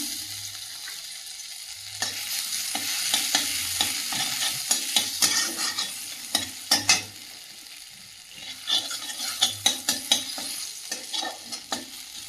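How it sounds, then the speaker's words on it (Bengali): Chopped ginger frying in a wok with very little oil, a steady sizzle broken by a run of sharp stirring scrapes and clinks, close and loud with no talking. "কড়াইতে একদম সামান্য তেল দিয়েছি দিয়ে দেবো আদা কুচানো"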